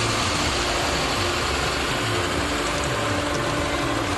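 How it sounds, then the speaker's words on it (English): A de-stoner machine sieving soil beds for potatoes on a farm, a loud continuous mechanical churning and rattling with an engine drone underneath, steady throughout with no pauses. "These beds will be sieved by a machine called a de-stoner."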